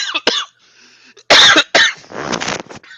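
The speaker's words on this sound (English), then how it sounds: "Cough it up." Several harsh coughs close up, a couple of quick ones then a loud burst and a rougher rasping cough.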